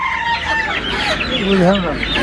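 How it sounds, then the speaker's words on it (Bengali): Chickens cluck and squawk continuously amid the busy din of a village market in Bangladesh, with a rooster-like call rising near the end; voices murmur faintly in the background. "অনেক সুন্দর সুন্দর কিছু মুরগি নিয়ে আসছে"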